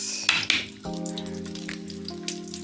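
Onions hit hot oil in a kadai for Chittagong-style haleem, two splashy bursts followed by a steady frying sizzle under a sustained tonal hum.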